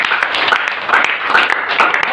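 A church congregation applauds for Jesus during a service, a dense, steady wash of many hands clapping together with a faint voice mixed in.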